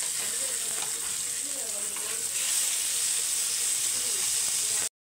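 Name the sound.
fish sizzling in a covered pan after being turned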